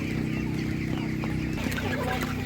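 A pedigree laying hen clucks amid the busy hubbub of an outdoor animal market, with steady crowd noise and other fowl around; short, close clucks rise over the continuous background din.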